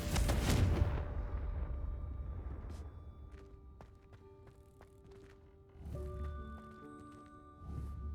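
Hogwarts Legacy Confringo explosive spell: one heavy, booming blast opens loud and close, then a decaying rumble follows, with softer thumps and faint magical tones after it and no talk.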